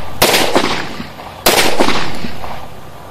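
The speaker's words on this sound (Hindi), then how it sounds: "चलो दोस्तों दोबारा से इस पे फायर करते हैं।" Two sharp, loud pistol shots from a Beretta 92FS or Glock 19 firing local rounds, about a second apart, each with a ringing echo that trails off.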